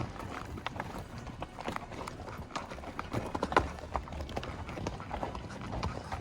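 Horses' hooves clip-clop steadily over a rocky, cactus-lined desert trail in Arizona, a close, uneven rhythm of several animals walking, fairly quiet and with no talk over it.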